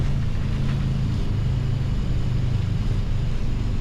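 Thrust reversers roar on a Boeing 737 MAX during landing rollout, a dense low steady rumble that holds loud and unbroken for several seconds with no voices over it.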